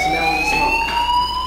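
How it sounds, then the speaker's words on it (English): A fire alarm rings steadily in Life is Strange, a continuous electronic tone sustained at constant loudness throughout with no talking. "Hey, do you hear that fire alarm?"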